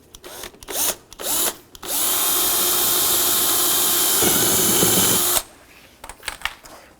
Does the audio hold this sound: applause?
no